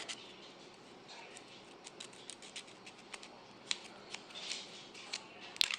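The top surface of a gel nail is roughed up, making faint, quiet scratchy ticks in irregular bursts over a low background hiss.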